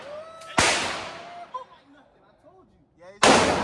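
Two loud gunshots fired at a shooting range, one near the start and another about two and a half seconds later, each with a sharp crack and a long decaying echo, with brief voices murmuring in the gap between them.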